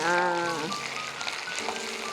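Onions sizzling in hot oil in a home kitchen, a dense steady frying hiss that carries through the whole stretch, with a voice talking over it at the start.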